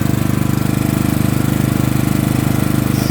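A Honda generator engine idles as it warms up, giving a loud, steady, rapid chugging with an even pulse throughout, close by and with no voices.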